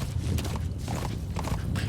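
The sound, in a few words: horse hooves clip-clopping in Metal Gear Solid V video game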